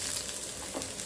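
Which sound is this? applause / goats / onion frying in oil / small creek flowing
onion frying in oil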